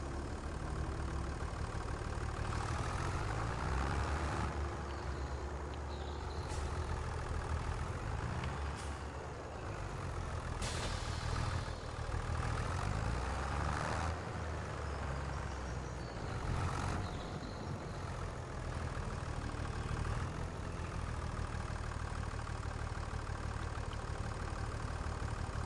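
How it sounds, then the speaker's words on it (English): Tractor engine running steadily in a farming video game, a continuous low rumble that stays loud throughout, broken by a few brief hissing bursts like air brakes releasing. "So we'll grab this tractor over here."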